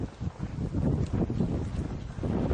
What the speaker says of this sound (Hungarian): A leolvadó zúzmarát meg a porhót hordja le a szél.